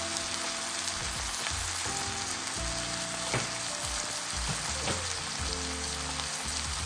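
Venison sausage breakfast hash, already cooked, sizzles steadily in a hot pan as it warms through, a continuous close frying crackle with faint stirring scrapes and no talk.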